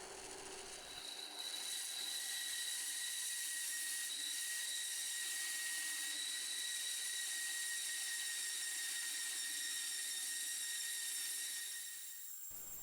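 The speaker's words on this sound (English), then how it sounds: "This is just a cheap Ryobi bandsaw, but with a little bit of patience and some fast action motion, it cuts through the aluminium quite happily." A cheap Ryobi bandsaw cuts through aluminium with soap on the blade, producing a steady high, hissing whine with a constant metallic ring, held evenly for about twelve seconds before stopping abruptly, with no voices.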